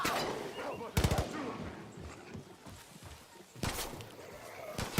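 Gunfire in Far Cry New Dawn, a few sharp bursts of shots at spaced intervals against a quieter background, with a voice talking in between.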